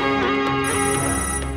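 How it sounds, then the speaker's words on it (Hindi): A telephone rings in a Hindi film scene about politics, its steady electronic tone filling the short moment with no talk over it. "दीनानाथ का फोन है, बात कर।"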